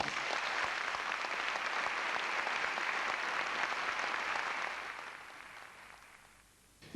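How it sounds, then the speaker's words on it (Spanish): Sustained applause from a conference audience greeting a delegation of the Madres de Plaza de Mayo: dense, steady clapping that holds for about five seconds, then thins and fades toward the end. "pido para ellas un aplauso"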